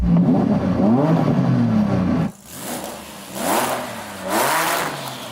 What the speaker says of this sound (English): And now Saeed is going to rev up that monster.